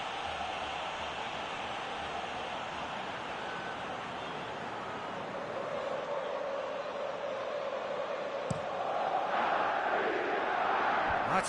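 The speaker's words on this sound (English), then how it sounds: "at least the crowd are appreciative of his efforts." A stadium crowd in a PES football video game gives a sustained broad roar that swells slightly toward the end, with no voices over it.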